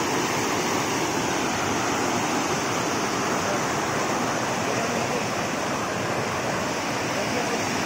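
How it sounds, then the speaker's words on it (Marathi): Rushing floodwater pouring across a broken village dirt road during a flood in Bhankheda, a loud, steady broadband roar filling the whole clip without a break. "खूप आहे पाण्याचा प्रभाव"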